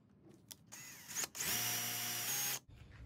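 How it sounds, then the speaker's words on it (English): Power drill fitted with a 2 3/8 inch Forstner bit boring into a wooden fishing lure, a couple of short trigger bursts followed by a loud sustained whirring cut of about a second, close and alone. "I'm gonna go with 2 3/8 inch holes using the Forstner bit."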